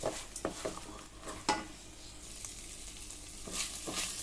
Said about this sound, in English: Let it get fried in the ghee.